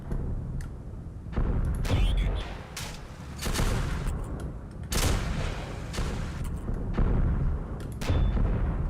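Tank cannons fire in the video game Steel Aces: a series of heavy booms and crackling blasts burst irregularly over a constant battle din, loud and close, with a voice faintly mixed in.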